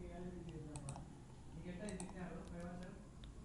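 Rapid keystrokes on a computer keyboard as a command is entered in a MATLAB command window, close and steady in a quick burst, with someone talking over the typing.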